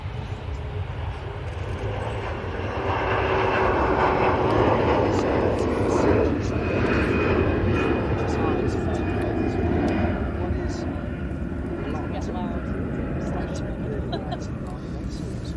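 A CRJ regional jet at Manchester Airport gives off a steady, broad engine roar that stays loud for the whole stretch, with voices talking over it.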